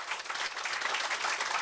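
An audience applauds at a live author conversation event: a short, dense burst of steady clapping from many hands, with no talk over it.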